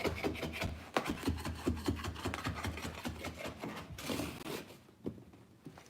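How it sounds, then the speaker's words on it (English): Carpet trimmed along a hallway wall by the baseboard, a rapid rhythmic rasping and cutting close up, steady for several seconds before easing off. "Coming down my set wall here, I'm just gonna trim it down."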